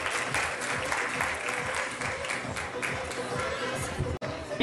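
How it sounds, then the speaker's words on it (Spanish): Applause and cheering for bikini fitness athletes at a Colombian bodybuilding competition, a dense crowd clapping steadily with chatter and voices mixed in, a brief dropout near the end. "Un fuerte aplauso para ellas."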